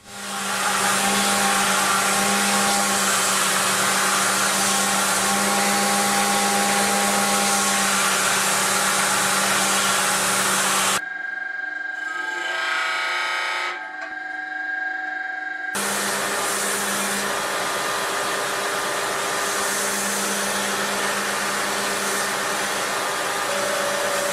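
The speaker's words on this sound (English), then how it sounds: "I'll finish shaping the blade, beginning by squaring everything off, then smoothing all the corners" Power grinder shaping a Damascus steel Japanese knife blade, squaring and rounding its edges; a steady, loud whirring grind runs continuously near the mic, broken by a few seconds of quieter pause midway.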